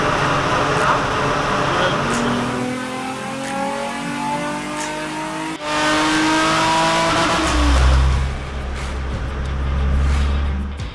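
A tuned car engine revving hard at full throttle, a sustained rising roar that dips briefly then surges again, loud and close, with a voice talking over part of it.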